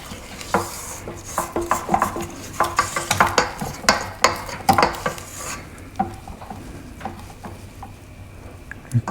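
A spatula scrapes chocolate cake batter down the sides of a mixing bowl, a run of close, quick scraping and tapping strokes that thin out into a few occasional knocks.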